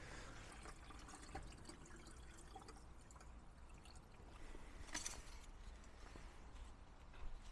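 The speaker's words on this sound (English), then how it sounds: "let's get some water in this" Water is poured from a container into a car engine, with a faint, steady trickling and splashing that swells briefly near the middle, heard close up with no talking.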